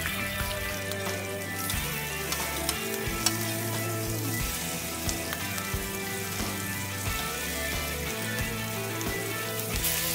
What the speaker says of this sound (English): Time to flip the bacon.